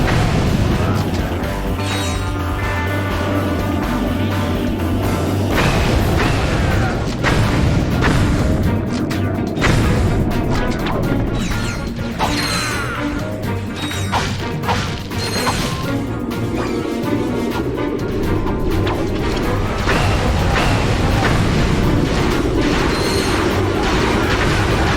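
Shock blaster fire and explosions in Ratchet & Clank 3 on Planet Veldin, a dense, continuous barrage of crashes, bangs and booms that stays loud throughout, with no talk.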